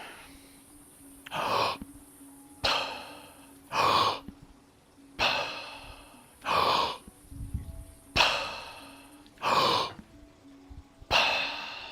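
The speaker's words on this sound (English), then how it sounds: "Strong, quick, inhale through the mouth with a very visible traction phase or pull" Strong, quick breaths drawn sharply through the mouth repeat at a steady pace, about eight gasping inhales with short pauses between, close and loud.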